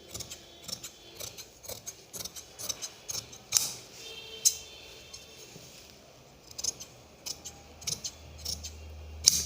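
Scissors snipping through blouse fabric during a princess-cut blouse cutting session, giving a string of light, crisp clicks and snips at an uneven pace, close by and fairly quiet with no talking.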